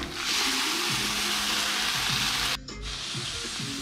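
Ash gourd pieces added to a hot pan with coconut for a Kerala-style moru curry, giving a steady loud sizzle with a brief dip near the end, no talking.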